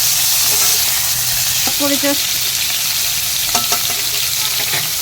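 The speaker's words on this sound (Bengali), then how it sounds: "এটাকে অল্প মিক্স করে নেব।" Jackfruit curry stirred in a pan over a raised flame, a loud constant sizzle with a few clinking spoon scrapes, while a voice briefly speaks.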